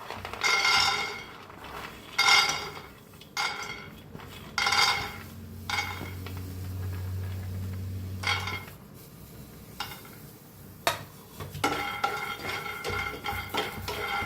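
Peanuts roast in a kadhai on a gas stove, stirred with a metal spoon that gives repeated, close scraping clinks against the pan in an uneven rhythm.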